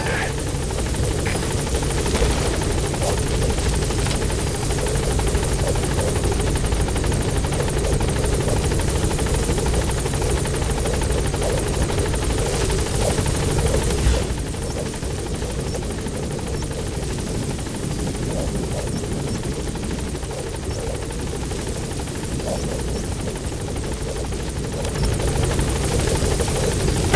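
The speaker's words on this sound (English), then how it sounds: "Once you're on that chopper, we'll have to abort the mission." A helicopter in the Metal Gear Solid V: The Phantom Pain video game thrums loudly and continuously with a steady rotor chop and engine drone, while voices speak over it.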